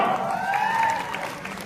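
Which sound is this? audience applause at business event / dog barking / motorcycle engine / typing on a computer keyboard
audience applause at business event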